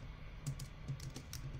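Computer keyboard keys clack in a quick, irregular run of light taps during a Roblox fighting game, faint and close, with no voices.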